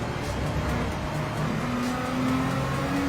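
A race car engine in a racing video game at Spa in the wet, a steady loud drone with a slowly shifting pitch as throttle eases on and off, alone without talk.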